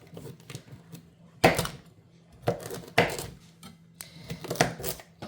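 Large carrot chunks dropped into a crock pot for homemade chicken stock, with four or five hard clattering thuds coming in uneven bursts, close and loud with no talking.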